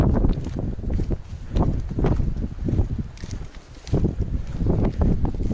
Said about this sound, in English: Now it's super windy.